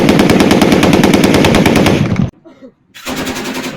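A heavy Soviet-era machine gun, a DShK or NSV, fires a loud, sustained rapid burst that cuts off abruptly, followed by a short lull with faint echoes before another burst begins.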